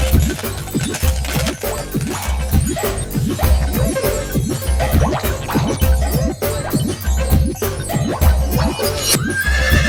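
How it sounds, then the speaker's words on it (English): A horse whinnies amid a busy, rhythmic clatter of hooves and knocking, loud and close, with no one talking. "I spy a horse"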